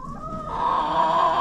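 A rooster on a homestead crows once, a fairly faint, drawn-out call rising into a sustained tone, heard alone against quiet background.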